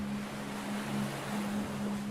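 Gentle sea waves wash in a steady, continuous surf wash with a faint low hum beneath, moderately quiet and unbroken, with no voices present.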